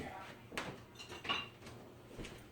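Dry almond flour pizza crust ingredients are stirred in a bowl, with a few soft clinks and scrapes of a utensil against the bowl, close and quiet.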